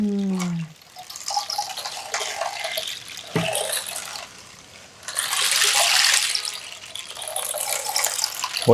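A rain stick lined inside with thorns and filled with seeds releases a gentle rushing patter like falling rain, fading briefly midway before swelling again, with a short voice at the start.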